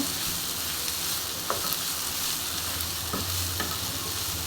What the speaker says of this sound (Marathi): मला व्यवस्थित असं मिक्स करून घ्यायचं